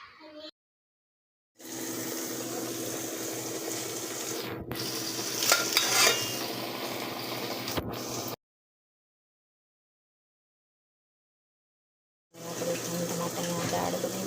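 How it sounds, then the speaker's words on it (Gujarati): A vegetable curry sizzles loudly in a hot pan, a steady bright frying hiss that cuts out and returns, with brief stirring clatter in the middle. "પણ જો ધમધમાટ શાક થાય છે"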